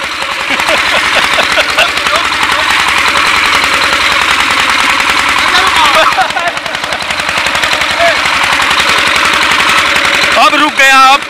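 A homemade jugaad mini tractor engine chugs loudly and up close with a rapid, rattling, gunfire-like beat, steady throughout with voices speaking over it.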